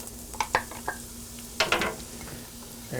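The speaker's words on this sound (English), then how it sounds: "there go my onions in there" Chopped onions drop into a pan of hot oil with sharp clatters and stirring scrapes, then a soft, steady sizzle fries underneath at close range.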